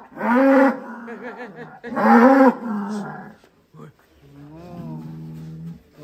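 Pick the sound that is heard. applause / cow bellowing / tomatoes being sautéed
cow bellowing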